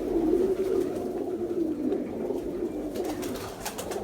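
Pigeons coo softly and continuously nearby in Rawalpindi, Pakistan, a low throaty warbling that rises and falls, with faint rustling in the background.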